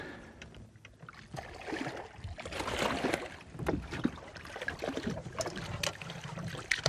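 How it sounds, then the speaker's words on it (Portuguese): Hooked piracanjuba fish thrashing at the water surface, a run of irregular splashes and sprays lasting several seconds, fairly close and moderately loud with no talking. "Jogando muita água, espirrando muita água."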